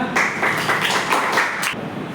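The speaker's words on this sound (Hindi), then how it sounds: "बैठो जोरदार तालियों के साथ" Students in a Hindi class giving a round of applause: a loud, close burst of many hands starts abruptly, holds for about a second and a half, then cuts off, leaving quiet room noise.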